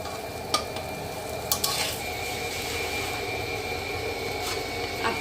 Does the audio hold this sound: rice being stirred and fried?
yes